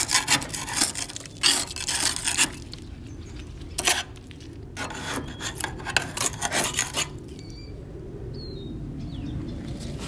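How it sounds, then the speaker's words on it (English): Flaking paint scraped off the inside of a Char-Griller Smokin' Champ grill and firebox, in repeated rough rasping strokes in irregular bursts, close up, with a few bird chirps outdoors near the end. "I'm gonna scrape it inside and out, get it cleaned up, scrubbed out"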